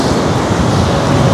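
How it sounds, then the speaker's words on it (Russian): A stormy sea on the beach at Anapa gives a loud, dense roar of surf and strong wind blowing without a break, filling the whole short stretch, with no speech. "Здесь у нас шторм на море. Конечно же, сильный ветер ощущается"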